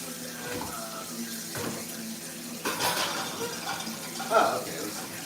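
A kitchen tap runs into the sink while dirty dishes are washed, water splashing unevenly with occasional clinks of dishware, and someone speaks quietly beneath the running water.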